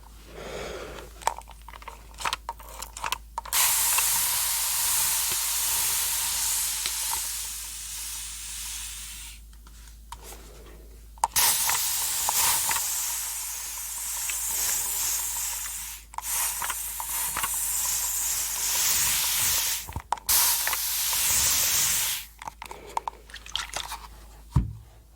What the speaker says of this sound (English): I'm just gonna spray it with this spray first